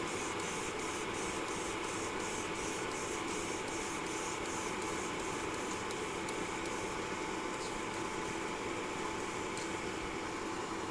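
An airbrush lays down a second coat of Vallejo color shift paint with an unbroken, close hiss of spraying air that holds an even level throughout, with slight pulsing in the upper range.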